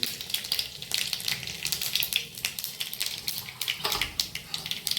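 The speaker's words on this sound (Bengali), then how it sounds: "মাছ ভাজার তেলেই আমি সর্ষেটা ফোড়ন দেব" Crackling, popping sizzle of mustard seeds in hot oil, continuous and close, with scattered sharp pops throughout.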